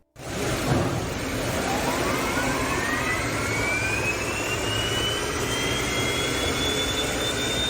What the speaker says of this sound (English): This vehicle was brought in as the customer says they have transmission issues, and it sounds like an airplane taking off.